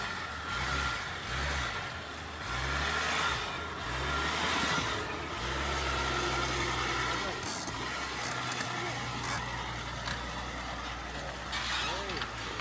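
A Range Rover L322 crawling out of deep mud ruts on a spring forest road, its engine droning and rising and falling in low revs throughout, with a voice talking intermittently over it.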